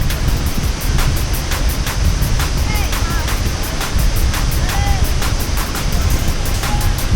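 Waterfall spray pouring down in a Costa Rica rainforest, a loud, steady close-up roar of rushing water and wind buffeting the microphone, with no break throughout.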